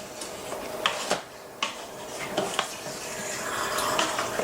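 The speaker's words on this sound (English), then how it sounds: "Give it another stir, get it all to blend in nicely" Curry chicken stirred in a pot with a spoon, producing repeated scraping clinks against the metal over a steady sizzling bed, close and fairly loud with no talk.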